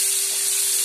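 Large tomato pieces frying in a pan for Andhra-style fish curry, a loud, close, steady sizzling hiss with a faint constant tone underneath.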